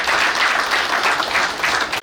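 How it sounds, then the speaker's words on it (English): A short, loud burst of dense applause from a seated audience at a naval college graduation ceremony, held steady for about two seconds before cutting off abruptly. "Let's appreciate him with another round of applause."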